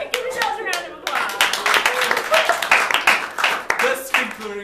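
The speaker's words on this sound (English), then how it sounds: "Give yourselves a round of applause" A small audience claps at a live comedy show, the dense applause starting after a brief voice and carrying on steadily with sharp, close hand claps and talking mixed in.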